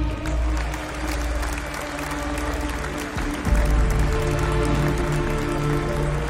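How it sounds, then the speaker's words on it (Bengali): Applause and cheering from a large audience, dense, continuous clapping that surges louder partway through, with a low crowd roar underneath and no clear voices. "অজস্র হাততালি আর বিরাট দর্শক মণ্ডলীর প্রবল উল্লাস আর চিৎকারের মধ্যে"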